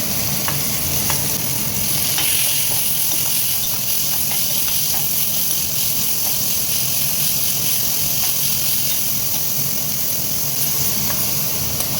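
Onion and tomato fry and sizzle in a pan for okra dry curry, a steady close hiss with faint stirring scrapes running throughout, no voices.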